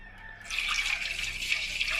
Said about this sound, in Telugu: గ్లాసుడు వాటర్ పోతున్నా